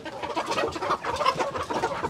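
Native chickens on a farm in Liloan, Cebu, clucking and chattering in overlapping, continuous calls from several birds close by, with no talk over them.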